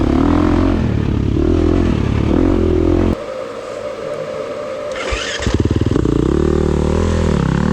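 A motorcycle on track during a six-hour winter endurance race in North Carolina, its engine roaring loudly and continuously, dipping briefly and then revving back up, with no talking.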